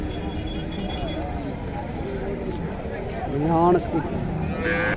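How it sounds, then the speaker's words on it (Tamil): At the Tiruppur cattle market, cows low with several short, rising-and-falling moos amid a bustling crowd, with people talking close by and a louder bellow near the end. "லம்பாடி மாடு"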